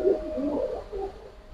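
Pigeons in a home loft, including a female about to lay eggs, give soft, rolling coos close by, several throaty calls overlapping across a quiet background.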